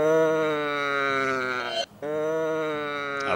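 Sheep bleat in a radio jingle: two long, loud, quavering bleats, the first breaking off briefly before the second. Both are strongly harmonic, with no talk over them.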